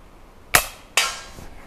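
Two sharp, snappy shots from an Umarex Cowboy Legend lever-action BB rifle firing Colibri ammo, spaced about half a second apart, close and fairly light, followed by a faint tick.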